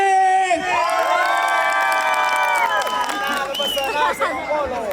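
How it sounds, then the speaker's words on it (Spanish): At an outdoor folk festival in San Juan de Yananaco, a crowd cheers and shouts for the first contestant, with loud excited voices and whoops layered over scattered clapping. "Fuerte las palmas para el primer concursante"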